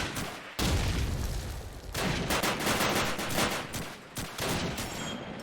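Grenades burst in a Call of Duty 2 online match, loud sustained blasts mixed with gunfire filling the whole stretch, with brief drops in between.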